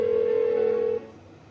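A single steady electronic ring tone from a phone in Persona 4 Golden sounds loud and close for about a second, then cuts off, unanswered, leaving only faint background hum.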